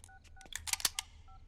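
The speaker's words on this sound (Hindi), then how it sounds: "राकेश भाई, एक फोन सिडनी को।" A telephone keypad dials a quick run of DTMF tones, about a dozen short beeps in irregular succession, faint and close with no voices.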